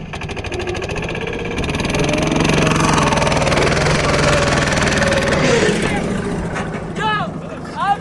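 Lombardini pat-pat engine on a Yağmur YET510 offroad vehicle runs steadily and loudly with a rumbling mid-pitched drone, straining over a steep obstacle, while people talk nearby.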